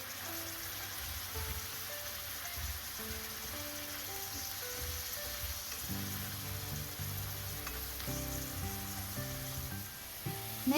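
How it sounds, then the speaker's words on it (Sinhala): Chopped vegetables, fish peppers and yellow bell pepper seasoned with salt and crushed pepper sizzle steadily in a pan, a soft continuous crackle at close range with no talking. "මේ මිශ්‍රණයට රස අනුව ලුණු ටිකක් ගම්මිරිස් පොඩු කෑලි මිරිස් එකතු කරගෙන ටෙම්පරාදු කරගන්නවා."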